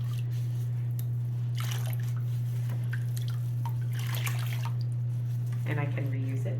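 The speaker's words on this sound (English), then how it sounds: "So I'm going to clean it with water and a sponge." Water splashing and dripping as a ceramics mixing stick is rinsed and wiped with a sponge, intermittent wet scrubbing and trickles over a steady low electrical hum.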